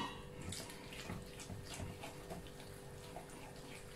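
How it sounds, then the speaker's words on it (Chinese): Flour and 200 grams of water are stirred steadily in one direction into batter for an egg and onion cake, making a quiet, continuous wet sloshing and squelching close by, with no talking. "搅拌的时候，我们沿着一个方向，匀速的，不断的搅拌。"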